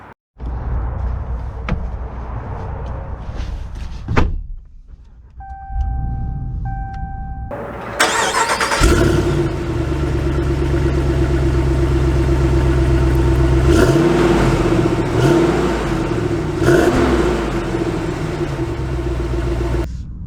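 A 2022 Ram 2500 Power Wagon Laramie pickup starts up: a few clicks and a door chime, then the starter cranks and the engine catches and settles into a loud, steady, deep idle as it pulls away.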